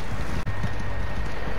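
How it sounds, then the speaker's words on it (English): Horse hooves clip-clop steadily while riding in the video game Red Dead Redemption 2, a continuous even gait over low rumbling ambience with a brief dropout early on. "I'm just going to keep riding my horse now."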